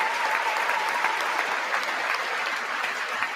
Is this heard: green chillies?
no